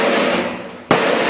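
A sharp capacitor pop from a small CRT TV being smashed in a vise, one loud sudden burst cutting through a steady noisy background, close by.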